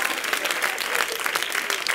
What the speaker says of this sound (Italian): applauso a Cristina